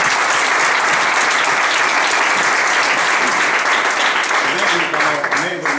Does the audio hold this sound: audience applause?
yes